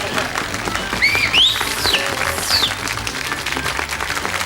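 A studio game show audience claps and cheers steadily throughout, a dense, continuous wash of applause with a few whoops rising above it.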